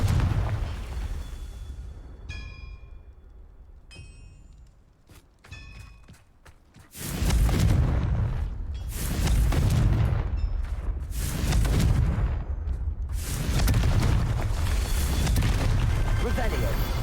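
Confringo fire spell in Hogwarts Legacy, cast repeatedly: a quieter stretch with chimes gives way to a run of loud, booming fiery blasts in quick succession, with a voice speaking over it.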